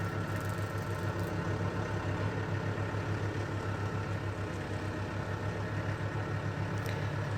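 A backhoe engine runs steadily at a low, even idle-like rumble, continuous and moderately close with no voices.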